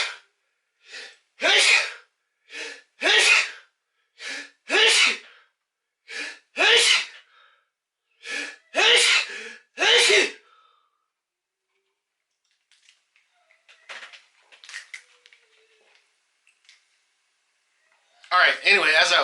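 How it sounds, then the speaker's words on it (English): A rapid string of about a dozen loud, sharp sneezes from a man, evenly spaced over roughly ten seconds. After a short pause come a few softer sniffs and breaths, and speech resumes at the end. "I had to sneeze 20 times"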